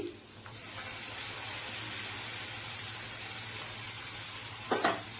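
Yogurt going into a hot pan for bhindi paneer curry, a quiet, even sizzle that swells briefly into a louder spattering burst near the end.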